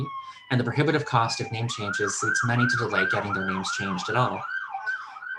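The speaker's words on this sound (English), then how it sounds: "Apologies for the sirens." An emergency siren wails with rising and falling sweeps behind a public hearing, heard clearly under a person speaking steadily throughout.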